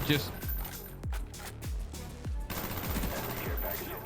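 Rapid gunfire from Call of Duty with a historically inaccurate weapon, a series of sharp, loud shots in quick bursts with short pauses, close and dominant throughout.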